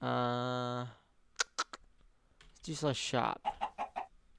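Minecraft chicken clucking in a Skyblock survival game, several short close clucks at the end, preceded by a sustained buzzy synthetic tone and quick clicking sounds, with a brief spoken word in between.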